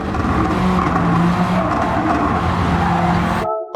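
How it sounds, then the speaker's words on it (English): Race car in Gran Turismo 7 on a circuit, braking hard and downshifting into fourth gear: a loud, close engine roar with shifting pitch through the downshift, cutting off abruptly at the end. "Brake very, very hard, downshift into 4th gear, and then throw the car."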